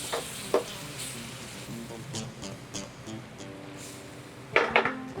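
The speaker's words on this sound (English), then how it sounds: "this process just to help deglaze the pan" A pan sizzles steadily while being deglazed for mushroom gravy in an ʻulu flour fried chicken cooking demo, with a few sharp clinks of a utensil against the pan, loudest near the end.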